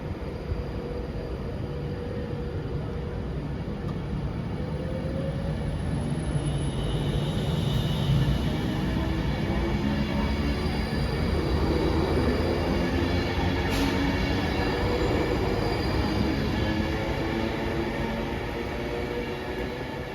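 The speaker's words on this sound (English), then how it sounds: "Departing out now is the delayed 1614 Avanti West Coast service from London Euston to Edinburgh Waverley." A delayed Avanti West Coast service from London Euston to Edinburgh Waverley pulls out of Haymarket station, a loud, continuous rumble of wheels and carriages rolling close by for the full twenty seconds, with faint squealing tones rising over it.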